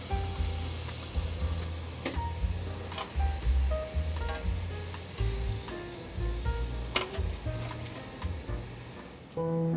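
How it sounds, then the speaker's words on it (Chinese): Taro balls deep-frying in hot oil, a steady crackling sizzle with scattered sharp pops running throughout, close and fairly loud with no talking. "再继续让它炸"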